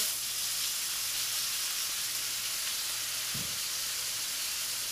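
A piece of beef being seared and rolled over in a hot pan for carpaccio, a soft continuous sizzle and hiss with one brief louder scrape or turn near the end, close with no talking.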